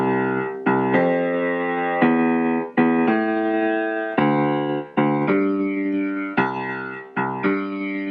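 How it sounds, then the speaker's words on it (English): Low jazz calypso bass line for "St. Thomas" played on piano, a series of separate sustained notes in a long-short rhythm, close and clear with no voice. "So a sample bass line would sound like this."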